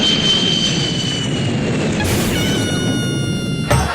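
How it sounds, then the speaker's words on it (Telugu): An airplane passes overhead with a loud, steady jet roar. A high engine whine slides downward as it goes by. A brief noisy burst comes near the end, played as a sound effect in a comedy skit. "పైనుంచి ఫ్లైట్ వెళ్తుందిగా."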